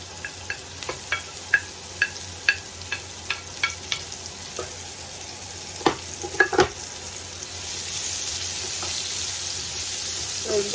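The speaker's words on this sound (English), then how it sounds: "I'm just gonna saute our onions, 2 large onions" Two large onions sautéing in a pan, starting with a string of light rhythmic taps and clicks over a soft background hiss, then a broader, steadier sizzle building toward the end.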